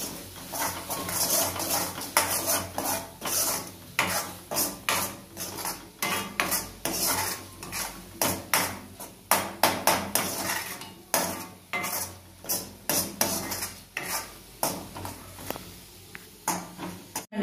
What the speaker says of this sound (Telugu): ఇప్పుడు మీరు అంతా తిప్పుకోండి, బాగా మసాలా ఉప్పు గిప్పు చూసుకోండి